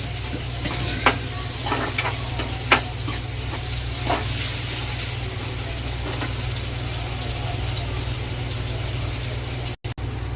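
Onions sauté in a pan with a steady close sizzle and hiss, with occasional scrapes and clicks of stirring over a low hum, and no one talking.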